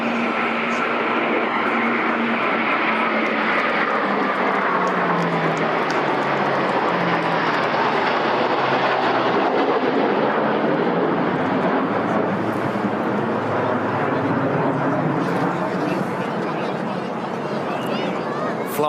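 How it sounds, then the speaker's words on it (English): Jet aircraft roar overhead during a Victory Day parade in London, a Poseidon P-8 escorted by two Typhoon jets, a loud sustained rumble that swells and slowly fades over crowd babble. "3 aircraft next, a Poseidon P-8, which is escorted here by 2 Typhoon."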